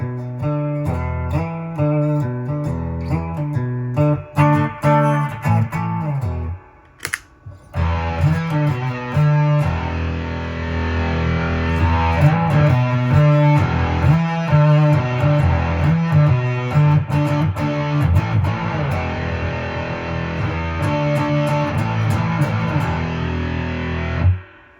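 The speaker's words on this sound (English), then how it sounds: "Actually, let's go to fuzz first. We'll try fuzz." Electric guitar played through the fuzz mode of a Surfybear Compact Deluxe, loud sustained chords and riffs with a short pause early on, then a continuous buzzing wall of tone.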